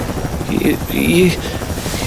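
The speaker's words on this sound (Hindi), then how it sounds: "तभी पहाड़ की दूसरी तरफ से एक हेलीकॉप्टर गंगा के सामने आया" A helicopter sound effect swells beneath a Hindi storyteller's voice, a steady whirring rotor drone that holds throughout under the narration.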